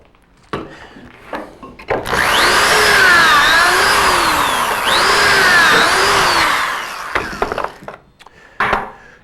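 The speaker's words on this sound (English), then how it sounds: "we always drill pocket holes in just one piece, so we'll do that here in our rail" A power drill with a Kreg pocket-hole jig bores pocket holes into a wooden rail, whining at a rising and falling pitch in two long, loud bursts, with short clicks and handling knocks before and after.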